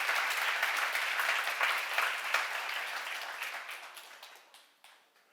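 A church congregation at a seminar on John chapters 4 and 5 applauds, a fairly distant, even patter of clapping that gradually thins and fades out.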